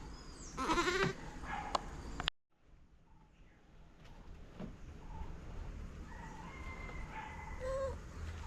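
Young goats bleat in short, high cries near the start, then a brief cutout, followed by quieter farmyard ambience with a few distant bleats.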